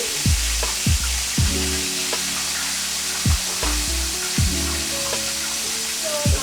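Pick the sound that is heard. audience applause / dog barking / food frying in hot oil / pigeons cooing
food frying in hot oil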